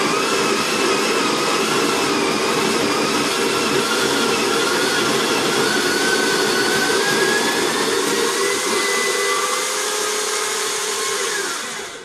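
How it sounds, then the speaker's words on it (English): A coffee grinder grinds Sidama Ardi beans for a fine drip grind, a loud, steady motorized whir running continuously, then spinning down at the end, with no talking. "So I'm going to grind the beans now."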